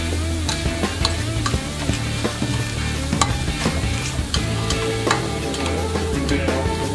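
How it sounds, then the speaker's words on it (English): Onions and tuna sizzle in a pan with a constant bright crackle, punctuated by clattering stirs of a utensil against the pan, close and without talk. "we're going to go ahead and add the onions in."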